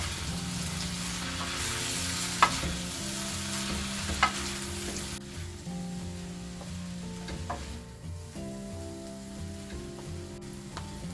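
Vegetable noodles are stir-fried in a pan with a continuous loud sizzle and a few sharp clanks of a utensil against the metal as they are tossed.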